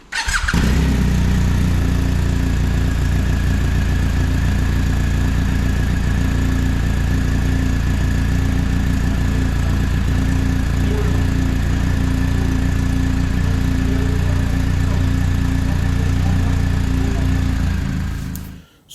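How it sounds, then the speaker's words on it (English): A BMW R 1250 GS Adventure motorcycle engine starts and settles into a loud, steady idle close by, a continuous rumble with a faint whine that holds for about eighteen seconds before cutting off. "Start the bike."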